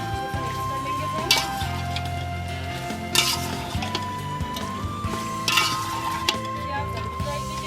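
A spoon stirring beef kaleji masala in a pan, with a low simmering sizzle underneath and a few sharper scrapes and knocks against the metal, repeated at uneven intervals.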